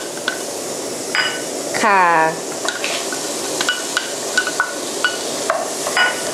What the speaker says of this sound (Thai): ตอนนี้เราจะมาคั่วตัวเครื่องที่เราจะโขลกนะคะก็ใส่ทุกอย่างรวมกันใช้ไฟอ่อนนะคะ